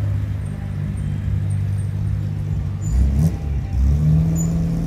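A Dodge Charger with a six-pack Hemi engine idles with a deep low rumble at a street festival, then revs up briefly around the middle and again near the end, loud and close.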